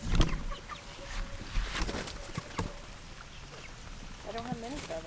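Farm chickens cluck and chatter faintly outdoors under steady background noise, with short squawks scattered throughout and a brief burst near the end.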